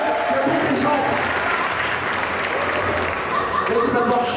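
Loud, sustained applause and cheering from a large crowd at a Super Street Fighter II X tournament final, a dense wash of clapping that holds steady throughout, with voices mixed in.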